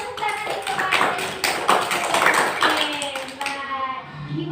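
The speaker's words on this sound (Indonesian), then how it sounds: "Oke, tepuk tangan untuk" Children clapping their hands together in a classroom activity, a series of sharp taps at an uneven rhythm, mixed with children's voices talking and chanting over the claps.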